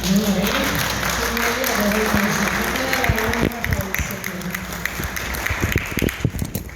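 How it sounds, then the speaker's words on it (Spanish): A church congregation claps loudly for the Lord after a prayer, strong applause with singing or voices beneath it that thins into scattered claps and talk toward the end. "Y ahora sí ese aplauso para el Señor."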